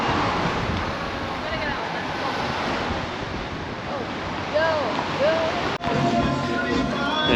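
Steady gusting wind roars across the microphone at the Scarborough seaside, a broad continuous rush with surf mixed in underneath and a brief dropout near the end.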